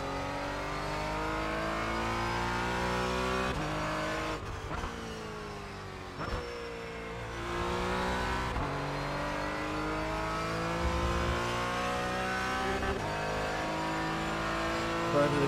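A race car engine in a video game revs and shifts continuously, its pitch climbing and dropping through gears, loud and close, with brief tire squeal from cold tires.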